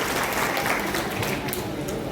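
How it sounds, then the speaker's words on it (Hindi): Audience at a public grievance hearing on electricity problems claps steadily to welcome officials, a dense, continuous patter of many hands that fills the whole moment, with some voices mixed in. "इन लोग के भी ताली बजा के इनको स्वागत कर दीजिए आप।"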